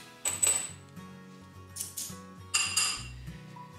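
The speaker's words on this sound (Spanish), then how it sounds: "Cuatro monedas" Four coins handled for a tabletop magic trick beside a glass tumbler, giving a series of bright metallic clinks and small drops in an irregular rhythm, close and fairly quiet with no talking.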